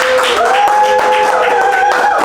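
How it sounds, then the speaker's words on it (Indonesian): Applause from a podcast audience for a guest, steady and close over the full stretch, blended with a bright musical tone playing alongside. "Kita berikan tepuk tangan meriah untuk Pak Haji Wawan Suhawan."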